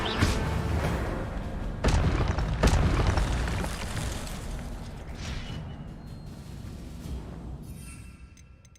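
Incendio fire spell cast in Hogwarts Legacy, heard as a dense roaring burst with sharp booming hits near the start, then a sustained whooshing rumble that slowly fades out. No one speaks.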